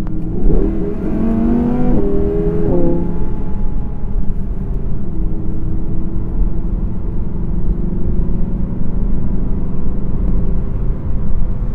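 A 2017 Audi R8 V10 Plus accelerates hard to pass a car, its engine rising in pitch through shifts at first, then settling into a loud, sustained rumble with heavy road and wind roar, no voices.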